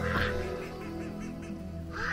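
Peking ducks quack in short nasal bursts, close by, at the start and end of a brief stretch over a steady low background hum.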